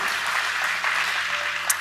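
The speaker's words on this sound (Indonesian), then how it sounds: "beri tepuk tangan dulu buat Tuhan kita Yesus Kristus" A church congregation applauds during a sermon, a steady wash of many hands clapping at once, fairly loud and continuous.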